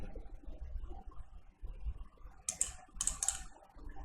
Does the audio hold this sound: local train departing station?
no